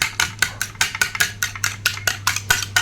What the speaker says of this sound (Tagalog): Magbati tayo ng itlog para sa ating para sa ating ampalaya.